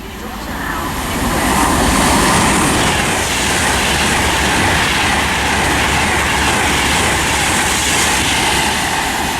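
A stopping Shrewsbury service train runs through Watford Junction on the West Coast Main Line, a loud, broad rumbling roar that swells in the first seconds and holds steady with rail clatter.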